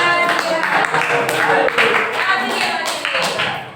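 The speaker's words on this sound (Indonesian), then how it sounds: "Ayo tepuk tangan dulu buat Pak Adit dan" A group clapping hands together in a classroom or training session, with close, uneven claps and taps over a few seconds and voices mixed in.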